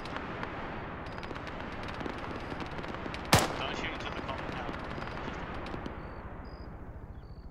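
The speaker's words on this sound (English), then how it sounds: "Those friendlies are shooting dead bodies." Constant rattling gunfire from friendly soldiers in Arma 3, rapid shots under dense battlefield noise, with one louder crack near the middle, distant and fairly quiet overall.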